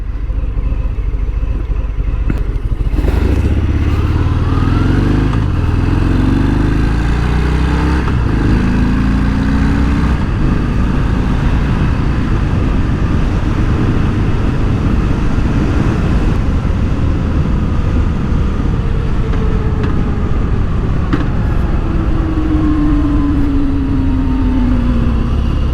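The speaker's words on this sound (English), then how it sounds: "This is the Fat Bob, and it's a really nice bike to ride." Harley-Davidson Fat Bob motorcycle riding, a loud, steady engine drone with rising and falling revs and wind rush throughout, no voices.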